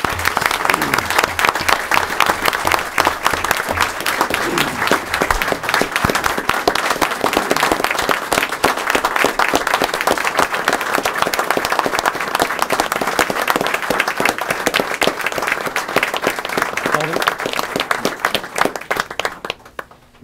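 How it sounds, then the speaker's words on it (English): Loud, sustained round of applause at a meeting honoring firefighter paramedics, dense close clapping throughout that tapers off in the final second. "Can we give these individuals a round of applause again?"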